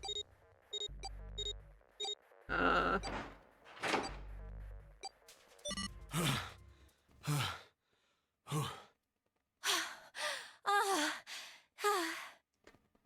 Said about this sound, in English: Girl, quit panting so hard.